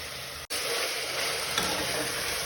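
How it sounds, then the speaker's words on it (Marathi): Chopped onion and curry leaves fry in hot oil in a pan, giving a steady close hiss and crackle that cuts off briefly twice. "कांदा शिजायला थोडासा मीठ टाकू आणि लगेच कढीपत्ता पण टाकू त्याच्यामध्ये"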